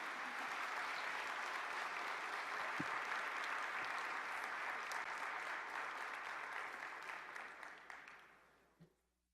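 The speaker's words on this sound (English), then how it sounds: "Let's give another huge round of applause" An audience applauds a keynote address at a 2014 symposium, a dense, sustained clapping that holds steady for several seconds, then thins and fades out near the end.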